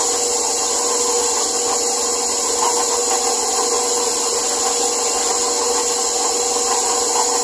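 Steady, loud whirring buzz of an electric mixer mixing batter with eggs, running continuously up close, with a constant rough grinding texture and no pauses.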